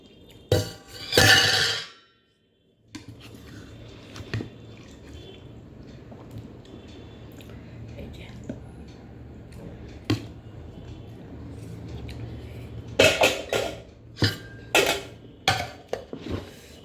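Dishes and cutlery clinking while curry is served, sharp bursts of clattering and scraping at the start and again near the end, close and fairly loud, with a quiet stretch between.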